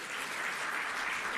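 A crowd at the official launch of a medicinal cannabis special permit programme applauds, a dense, steady wash of many hands clapping at even loudness throughout, with no voices over it.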